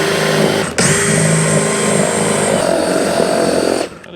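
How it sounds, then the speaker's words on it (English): A power drill with a drill bit bores into material during interior work on a 1955 Chevy Nomad, a close, loud, steady whine that starts sharply and runs for about three seconds before stopping abruptly. "That is a terrible drill bit."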